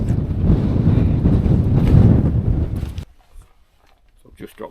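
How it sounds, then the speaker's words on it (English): Gale-force wind buffeting a microphone on a misty mountain summit near Scafell Pike, a loud roaring rumble for about three seconds that cuts off abruptly into near quiet with faint movement sounds. "As you can probably hear, it's blowing a gale up there"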